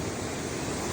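Mina Sauk Falls runs full after rain, giving a constant broadband rush of water mixed with some wind buffeting on the microphone, steady and fairly near, with no voices.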